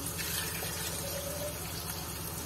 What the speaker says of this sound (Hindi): अब मैं इसके अंदर डालूंगी 4 कप पानी।